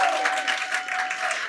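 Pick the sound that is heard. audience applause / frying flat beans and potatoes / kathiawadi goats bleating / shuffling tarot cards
audience applause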